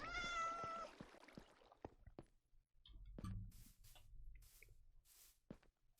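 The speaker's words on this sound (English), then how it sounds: "Those cats make a lot of noise." Minecraft cats meowing in the game, a clear harmonic meow up front followed by several shorter mews and soft clicks, moderately loud against quiet gameplay background.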